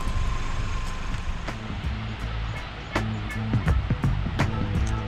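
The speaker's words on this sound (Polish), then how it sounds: "bardzo ładny wodospad" A waterfall in Iceland, heard as a steady, broadband rushing roar that runs through the whole stretch, with a low hum and occasional sharp clicks over it.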